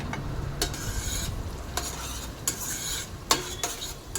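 Garlic and onion frying in a pan, a soft continuous sizzle broken by several sharp clinks and scrapes of a utensil stirring against the metal, close and fairly quiet.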